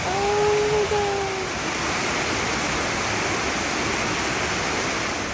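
A waterfall at Ducheny Falls roars as a loud, steady broadband rush, filling the whole scene continuously, with a brief whistle-like tone near the start.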